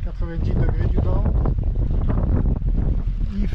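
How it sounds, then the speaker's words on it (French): Steady wind of about 12 knots buffets a sailboat moving on a flat sea, a rushing, gusty roar against the microphone with faint water sounds beneath. "là il y a 12 nœuds de vent"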